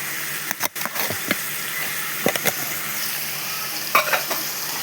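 Spinach and tomato curry with turmeric sizzles steadily in a pan while a spoon scrapes and stirs, producing a few sharp clatters and scrapes over the continuous frying hiss.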